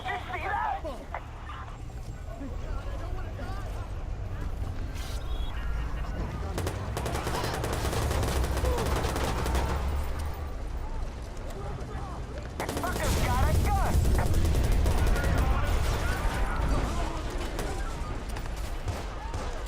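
Gunfire from the video game Watch Dogs crackles in dense, continuous bursts with a louder stretch in the second half, heard under excited talking from a player.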